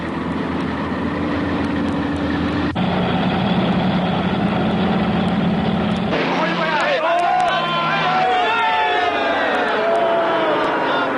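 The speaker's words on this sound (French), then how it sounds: "Oh non, le moteur va nous lâcher." A struggling vehicle engine runs steadily and loudly throughout, a low droning hum that continues under excited cartoon voices in the second half.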